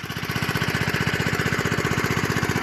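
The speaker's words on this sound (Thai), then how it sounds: "ติดเครื่องนี่ค่ะ ติดเครื่อง" A small engine at a rice field, running close and loud with a steady rapid chugging beat that holds an even rhythm throughout.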